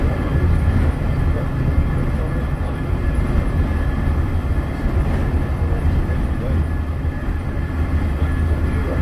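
The Walt Disney World monorail rolls along, a steady low rumbling ride noise with constant interior hum, heard from onboard with faint talk underneath.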